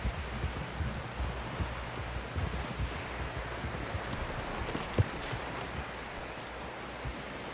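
Horse hooves in the game Red Dead Redemption 2 clop in a steady walking rhythm, close and fairly soft over outdoor wind and rustling, with no talking.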